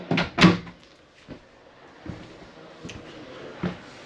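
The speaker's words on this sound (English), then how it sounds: "Nice big drawers underneath the dinette here." Large drawers under the dinette of a 2024 Forest River Flagstaff Super Lite 26RK travel trailer opening and closing, a few close wooden thumps and sliding knocks, louder at first, then softer.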